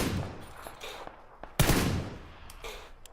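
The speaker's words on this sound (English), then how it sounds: "someone taking shots." Gunfire in an online shooter game, including shots from a VSS rifle, crackles in a few sharp reports, with one louder close burst in the middle and fainter shots after it.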